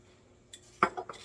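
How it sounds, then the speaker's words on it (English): Metal lid set onto a glass quart jar during sprouting-seed prep: a few quiet taps, then a sharp close clink followed by two or three small rattles in a quiet room. "So we'll just put our lid on"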